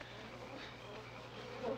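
Bees buzz around wooden hive boxes, a faint, steady insect drone heard alone and at a little distance, growing slightly louder at the very end.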